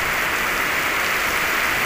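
Steady rain falls, a dense, continuous hiss with no break, close and fairly loud throughout.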